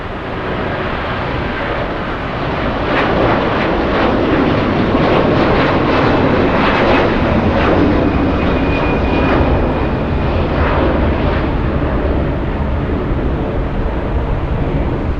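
A Southwest Airlines jet in special livery passes at Los Angeles International Airport, its loud engine roar building over the first seconds, then holding a strong, sustained rush with a faint whining tone across the pass.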